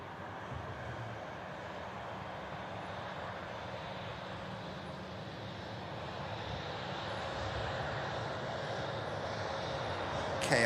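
A KLM airliner taxis out at Manchester Airport, its jet engines a faint, steady distant roar that slowly builds toward the end.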